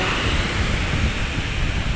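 Sea water surges at the shore as a large wave, about six feet high, rushes up the beach, a loud continuous roaring wash with no voices.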